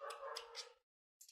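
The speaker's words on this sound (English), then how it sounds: "The dogs are going crazy outside." A dog outdoors gives a short, faint bark or yip, followed by a brief pause and a second quick, high yelp.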